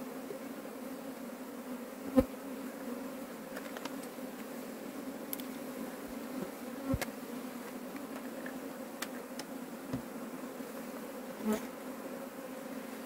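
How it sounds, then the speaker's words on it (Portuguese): A honeybee swarm hums steadily around a rescued hive taken from a wooden stump, a soft continuous buzz with occasional louder bees passing close by. "Esse enxame, pensa no enxame que está equilibrado."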